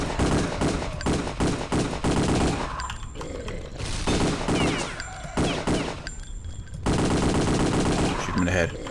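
Loud bursts of rapid gunfire in Return to Castle Wolfenstein come in several volleys separated by short pauses, with a person talking between them.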